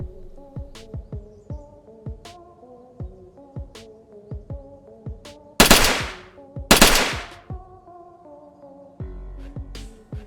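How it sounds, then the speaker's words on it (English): Gunfire from a VR battle royale shooter, with a string of sharp single shots at a steady rhythm, two much louder blasts in the middle and a short burst near the end, heard close and clear without voices. "I completely missed him when I was shooting him there."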